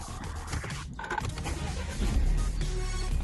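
A car engine cranks and catches, then its rumble drops and falters as it stalls, with a short click in the middle; loud and close, no talking.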